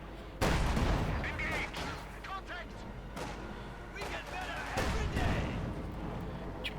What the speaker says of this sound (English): Got the mortar, they continue to fire away in the hopes of hitting something